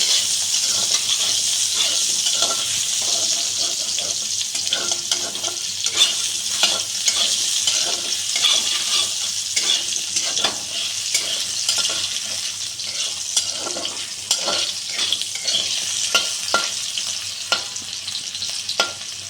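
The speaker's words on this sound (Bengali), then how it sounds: "আলুটা একটু ভাজা ভাজা হওয়া পর্যন্ত আমি অপেক্ষা করব।" A few pieces of potato fry in hot oil for a pointed gourd curry, giving a steady close sizzle with frequent short scrapes and clicks as they are stirred in the pan.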